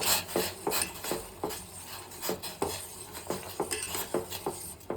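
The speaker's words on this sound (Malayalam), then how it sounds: "നല്ല ഇളക്കി കൊടുക്കാം." A spoon stirs water with rosemary in a pot on the stove, scraping and clinking against the metal in quick repeated strokes, close and fairly loud, with no talking.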